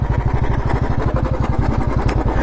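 A motorcycle idles up close at a parking area, its engine thumping in a fast, even pulse that stays loud and steady throughout.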